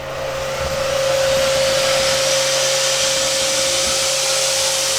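Electric motor on a lathe or machine run through a variable-speed drive spins up after a button press, rising into a steady, loud whine with a constant tonal hum underneath and broadband rushing noise, continuous and close.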